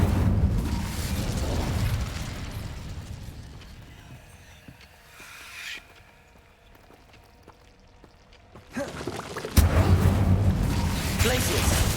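Incendio fire spells cast repeatedly in the Hogwarts Legacy video game, giving loud whooshing bursts of flame that come back in waves, with a long quieter stretch in the middle and heavy fiery noise returning near the end.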